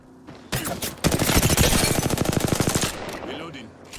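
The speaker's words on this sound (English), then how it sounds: "Being shot at." Rapid automatic gunfire in the Apex Legends video game, a loud sustained burst of evenly spaced shots after a few single reports, then fading.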